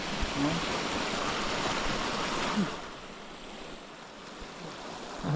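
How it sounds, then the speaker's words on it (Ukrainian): Water rushing over a small drop on a river in winter fishing country, a steady broadband wash that dips slightly midway, fairly close and moderately loud, with no talk. "Ти диви, який водопад, ти що"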